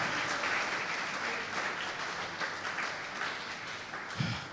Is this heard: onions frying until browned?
no